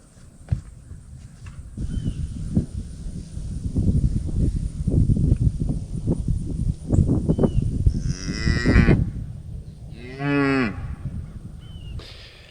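Cattle moo repeatedly during calving season, a close series of deep, drawn-out calls that rise and fall, with a couple of longer, higher bawls near the end.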